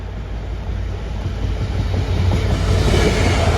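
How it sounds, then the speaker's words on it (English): Freight train running from Daventry to Doncaster on the West Coast Main Line diversion, passing close by as a steady, loud rumble of wagons with rhythmic wheel clatter that grows slightly louder. "here comes a freight train running from Daventry Tesco to Doncaster Airport"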